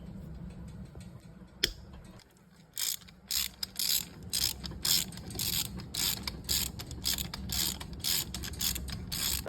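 A ratchet wrench clicks in quick repeated bursts while loosening a 10mm bolt on a 1999 Honda XR100R dirt bike, starting with a sharp metallic clank and continuing in close, rhythmic cranking strokes.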